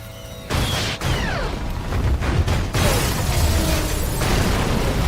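Part of a building explodes in a horror film as a fire is set at one corner: a loud, sudden boom with shattering debris, then sustained roaring rumble and crackling.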